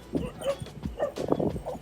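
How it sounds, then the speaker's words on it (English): Several dogs playing together in a park, with short close yips, whimpers and playful barks mixed with rustling movement and scuffling over a couple of seconds. "This many dogs, all in one place."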